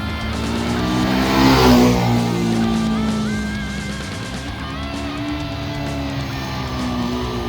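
A motorcycle riding along a Himalayan forest road near Gangotri and Harsil, its engine humming and shifting pitch close by with strong wind rush, swelling briefly before settling into a steady drone.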